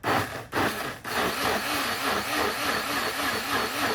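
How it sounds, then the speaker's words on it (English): Small smoothie blender pureeing a mixture for a recipe, starting with two brief pulses and then running continuously with a loud, close whirring motor and a rhythmic churning wobble. "I don't have a hand blender, so I'm gonna use my tiny smoothie blender"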